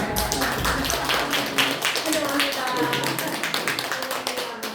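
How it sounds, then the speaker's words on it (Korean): Church congregation clapping to welcome a guest at a Thanksgiving service, a dense run of crisp close hand claps with a lively rhythm, and a voice speaking briefly over them. "우리 박수로 환영하겠습니다."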